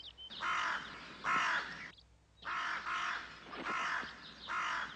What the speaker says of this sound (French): Je parle des corneilles.